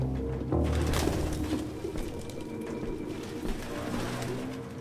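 Pigeons coo softly in a video game scene, low repeated cooing calls over a faint ambient background with no speech.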